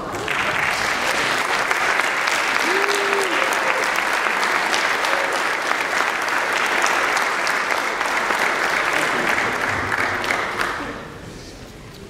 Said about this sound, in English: would you please stand and let's give them a round of applause